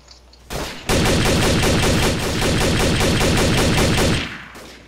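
Automatic gunfire in the video game Trouble in Terrorist Town, a loud rapid burst of repeated shots lasting several seconds before cutting off, close and dominant.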